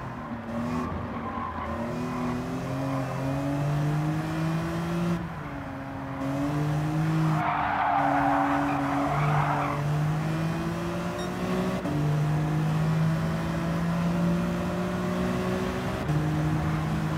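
BMW M3 race cars in Gran Turismo 7 howl through rising and falling engine tones with audible gear shifts, a brief burst of tire noise midway, and no talking.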